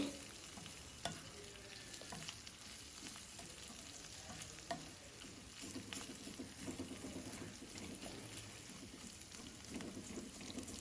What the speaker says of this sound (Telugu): ఉల్లిపాయలు మాడిపోకుండా మీడియం ఫ్లేమ్లో పెట్టుకొని ఫ్రై చేసుకోవాలి